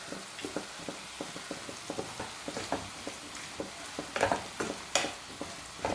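Potatoes and tomatoes with salt are stirred in a frying pan: steady scraping strokes fall in a quick rhythm over a soft sizzle, with a few louder scrapes near the end.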